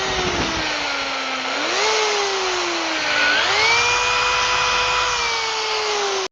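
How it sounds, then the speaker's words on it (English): A power drill whines steadily while counter-drilling deep screw holes into the wooden top of an I-beam sawhorse. It holds a loud, continuous pitch that rises twice as the bit bears down, with no talking over it. "I want them counter drilled kind of deep"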